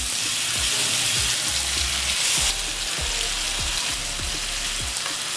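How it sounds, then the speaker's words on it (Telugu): Masala-coated fish pieces fry in hot oil with a steady, loud sizzle throughout, broken by repeated low thumps as pieces are set into the pan one by one. "ఇప్పుడు ఒక్కొక్క పీస్ని తీసుకొని ఈ విధంగా ఫ్రై చేసుకుందాం."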